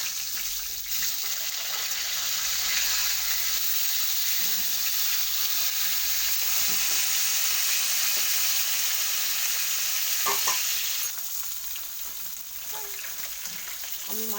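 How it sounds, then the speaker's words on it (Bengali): Rohu fish pieces sizzle steadily in hot oil as they are turned in the pan, with a few clinks and scrapes near the end as the frying noise drops. "আমি এখানে মাছটাকে ভালো আবার উল্টে দেবো একবার"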